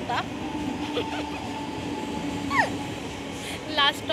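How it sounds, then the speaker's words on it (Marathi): Steady rumble of a moving Mumbai local train carriage on the Wadala line with a sustained hum, a few squeals and chirps, and brief background voices. "सो फायनली ट्रेनमध्ये बसलो आहोत आम्ही दोघी"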